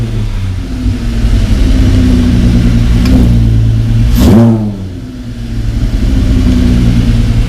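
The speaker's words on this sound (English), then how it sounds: "It's loud when you press the gold pedal." Mk1 Caddy's V6 4motion engine idles with a steady rumble, then surges in a sharp throttle blip around the middle before settling back to idle, loud and close with no talk.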